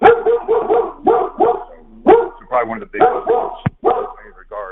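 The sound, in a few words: dog barking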